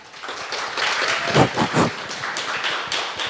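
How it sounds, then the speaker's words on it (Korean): An audience at a Korean tech conference gives warm applause to welcome a speaker, a dense burst of clapping that swells to a peak midway and then fades, with no talk over it. "여러분 뜨거운 박수로 맞이해 주시기 바랍니다"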